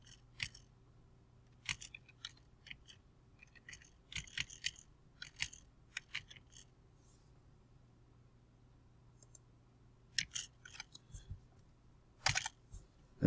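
Fingers tap out a name on a computer keyboard in uneven little clusters of faint, crisp clicks, with brief pauses between the bursts, in a quiet room with no talking.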